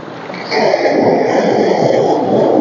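Sea waves wash around a rocky hill on the coast at Mullaitivu, a steady broadband rush of surf that swells louder after the first half second and holds, with no talk over it.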